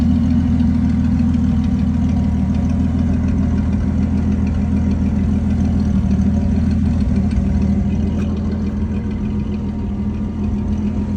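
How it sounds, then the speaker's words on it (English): Restored 1982 Ford F100 step side pickup with an unmodified engine, idling: a steady, close, low rumbling hum that runs evenly throughout with no voices. "Obviously the vehicle is running. It runs and drives perfect."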